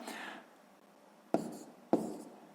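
A pen writes digits on paper during a sixth-grade maths exercise, with a soft scratch at the start followed by two sharp taps of the pen against the page, close and quiet.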